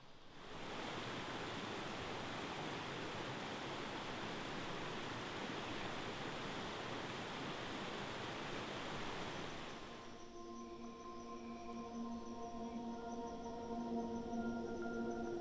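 Steady rushing water from a river beside a jungle camp in Indonesia fills the scene without pause, and a faint tonal hum joins it near the end.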